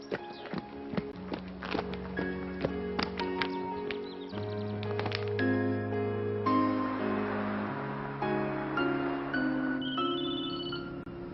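A melodic electronic ringtone plays a bright, repeating tune of sustained notes, fairly steady and close, with no talking.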